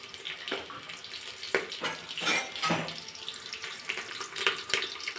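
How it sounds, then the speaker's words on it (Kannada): Onions and curry leaves fry in a pan after mustard seeds for a vegetable sambar, giving a soft, close sizzle and hiss with irregular crackling swells and no voices. "ಫ್ರೈ ಮಾಡ್ಕೊತಿದ್ದೀನಿ."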